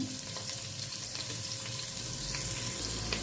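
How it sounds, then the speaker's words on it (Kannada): Onion, garlic, ginger and green chillies frying in hot oil for a village-style country chicken curry: a loud, continuous close sizzle with occasional faint stirring taps, no voices. "ತೆಗೆದಿಟ್ಕೊಂಡಿರೋಂಥ ಈರುಳ್ಳಿ ಮತ್ತು ಬೆಳ್ಳುಳ್ಳಿ, ಶುಂಠಿ, ಮೆಣಸಿನ್ಕಾಯಿನೆಲ್ಲ ಸೇರಿಸ್ಕೋತಾ ಇದ್ದೀನಿ."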